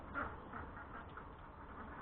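Ducks quack in winter, faint and muffled, in soft repeated calls over a steady dull background with no voices.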